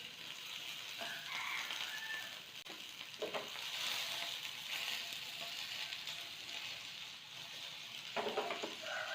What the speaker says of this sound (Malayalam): ഇനിയിപ്പോൾ ഇതാ നന്നായിട്ടൊന്ന് വറുത്തിട്ടെടുക്കാം.